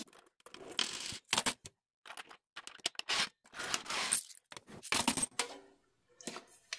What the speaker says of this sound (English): we are going to pop our money in there.